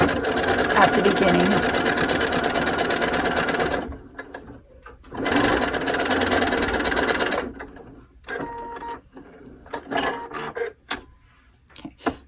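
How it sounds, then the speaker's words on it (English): A sewing machine stitches a quarter-inch seam along a bag edge in two steady bursts of rapid mechanical whirring, the second shorter, followed by quieter handling clicks and a few spoken words. "you're going to sew a 1/4 inch seam down this edge."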